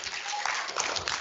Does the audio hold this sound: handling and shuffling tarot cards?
no